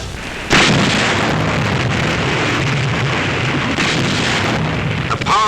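Heavy naval gunfire from Japanese battleship 16- and 14-inch guns in a WWII sea battle: a sudden loud blast opens into a sustained, dense roar of rumbling and crackling that continues unbroken to the end.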